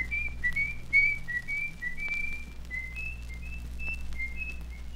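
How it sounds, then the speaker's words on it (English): A man whistles a cheerful tune on a mountain path, a steady run of clear bright notes over a low constant background hum, with no talking. "And Old Fiddler got to his feet and went whistling down the mountain path."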